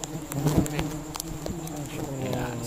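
A swarm of honey bees buzzes close and loud during a honey harvest in a mangrove forest in South Sumatra, a dense, continuous droning hum with brief louder passes.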